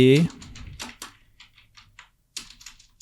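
Keys clack on a computer keyboard in a run of separate crisp taps with short gaps, close and clear, after a brief stretch of someone speaking at the start.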